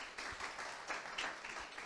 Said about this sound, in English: Give us a big round of applause for Mika.